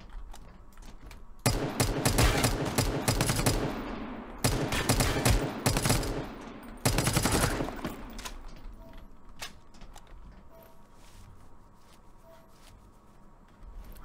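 Bursts of rapid gunfire from Dysterra ring out in three dense volleys, each lasting about a second or two, loud and close, followed by a quieter stretch of faint game ambience.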